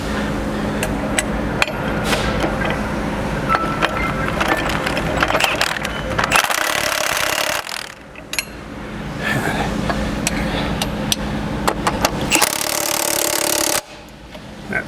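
Rapid metallic clicking and rattling of a socket wrench tightening hitch bolts on a John Deere 4066R compact tractor, with bursts of harsher ratcheting and occasional louder knocks, close up.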